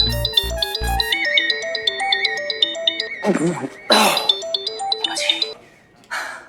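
A phone rings with an incoming call, its bright repeating ringtone melody looping for several seconds. Coughs, throat clearing and voices break in partway through while the tune keeps playing.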